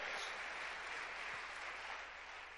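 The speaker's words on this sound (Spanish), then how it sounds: "Denle un fuerte aplauso a Dios." Church congregation giving a loud round of applause to God during a sermon, a steady dense wash of clapping throughout.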